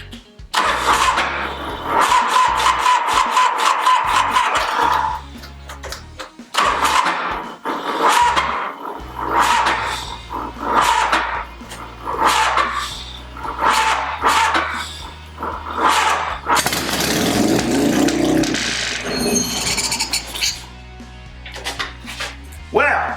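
A Harley-Davidson FXR motorcycle engine, jump-started from a battery jumper, cranks and catches, then runs loud and continuously at a high, racing idle with uneven surges throughout.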